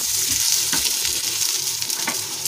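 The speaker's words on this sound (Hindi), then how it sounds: "इसे मिक्स करूंगी मैं ढोकले को।" Fried dhokla being stirred in a hot pan, with a constant close sizzle of oil and scraping strokes from a spoon, and no talking.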